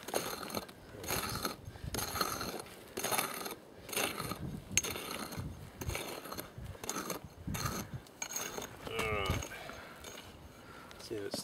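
Minelab GPX 5000 metal detector giving a signal over a gold nugget buried in a hole: a close, steadily repeating pulse of swelling tones over rough outdoor background noise.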